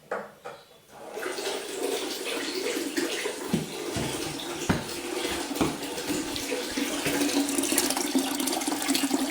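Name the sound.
water turned on, filling toilet cistern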